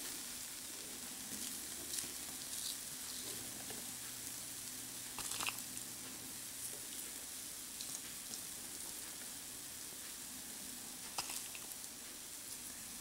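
A whole green gram dosa (pesarattu) spread with onions cooks on a griddle with a soft, continuous sizzle and occasional faint crackles and ticks, close and steady with no talk.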